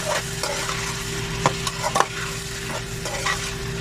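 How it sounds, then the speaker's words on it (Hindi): Mixed vegetables being stirred and fried in a pan for a homestyle curry, a steady sizzle broken by a few sharp spoon scrapes and clinks against the metal, close and alone with no talking. "और अभी हम इसको थोड़ा सा करेंगे मिक्स"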